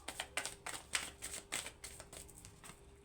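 A Smith-Waite (Rider-Waite) tarot deck handled up close, a quick run of crisp card snaps and flicks, about a dozen light clicks in an uneven rhythm with no talking.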